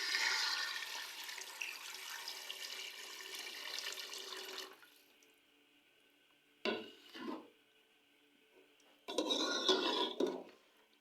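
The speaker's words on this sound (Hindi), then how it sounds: "अब मैं इसमें ऐड कर दूंगी पानी।" Water pours into a pot of mutton being cooked for soup in a home kitchen, a steady splashing stream that stops, then returns in two shorter bursts.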